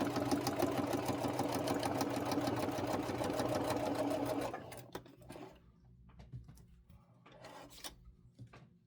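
A sewing machine stitches a straight line down a fabric sample, buzzing steadily and rapidly up close for about four and a half seconds, then stopping, followed by faint handling and rustling sounds.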